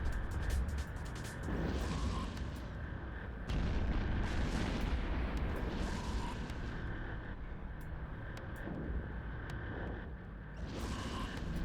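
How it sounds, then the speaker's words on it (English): Heavy booming blasts and rumbling explosions from an Eve Echoes space battle roll through a dense, continuous wall of low noise, with a steady high tone running underneath. "Oh my, that's a large explosion."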